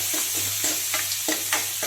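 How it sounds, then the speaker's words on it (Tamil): Onions and curry leaves sauté in a pan with a steady sizzle, broken by repeated scraping strokes of a spoon stirring them; close and moderately loud, no voices. "அடுத்து நான் வெங்காயமும் கருவேப்பிலையும் சேர்த்துக்கிறேன். நல்லா வதக்கி விட்டுக்கலாம்."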